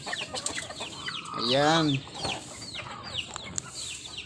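Backyard chickens cluck and chatter in short, irregular calls, with one longer drawn-out squawk in the middle, and a person speaks briefly nearby.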